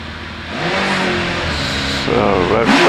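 The Gould GR55B 3.5 litre racing car at a hillclimb roars loudly up through the revs, the engine pitch climbing, with a commentator talking over it.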